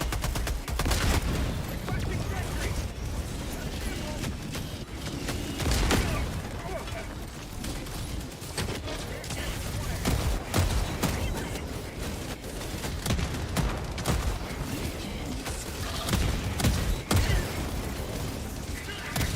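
Autocannon fire in the video game Helldivers 2, dense rapid bursts and booms running throughout, loud and close, with a voice talking over it.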